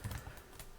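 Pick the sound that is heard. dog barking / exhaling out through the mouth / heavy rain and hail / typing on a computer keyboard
typing on a computer keyboard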